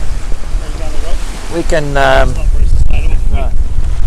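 A Cape George 36 sailboat under way at sea during an ocean race, with loud wind buffeting the microphone and rushing water while a person speaks briefly over it.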